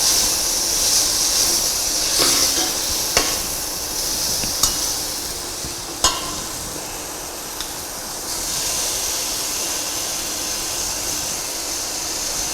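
Mutton sizzles and fries in a pot, a constant loud hiss with a few scraping clinks of a spoon stirring, close up and without talking.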